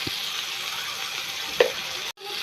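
Tomato drops into hot oil with mustard seeds and dried chili, giving a steady close sizzle with a couple of soft taps and a brief clatter before the frying hiss drops away and returns.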